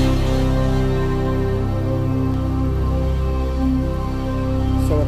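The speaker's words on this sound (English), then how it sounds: "So a paddy sound" Super Stage Air synth pad sample holding a steady, sustained chord with soft movement, loud and even throughout.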